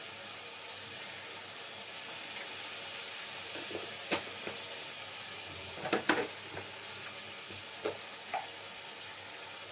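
Chicken and chickpeas fry in a hot pan as coriander powder is tipped in: a steady, even sizzle with a few soft clicks and scrapes of stirring, fairly quiet and with no talking.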